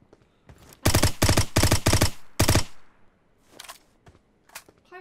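A rapid burst of gunfire in PUBG Mobile, several loud shots in quick succession, then a pause and a few scattered fainter shots and clicks.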